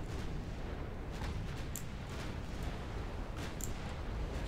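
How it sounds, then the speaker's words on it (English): Naval shells bursting in the warship battle game Ultimate Admiral Dreadnoughts, a dense rumbling barrage with several sharper bright cracks scattered through it, loud and continuous with no talk. "shells going everywhere now"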